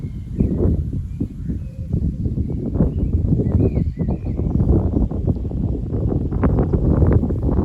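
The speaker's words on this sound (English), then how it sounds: "Wind's getting up." Wind gusts through a Suffolk garden in June, a steady low rumble with rustling and occasional faint birdsong in the background.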